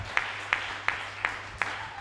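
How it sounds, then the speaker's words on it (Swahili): A church congregation claps in slow, evenly spaced beats, five sharp claps about a third of a second apart over a low steady hum, moderately loud in a reverberant hall. "hebu tuwapigie makofi"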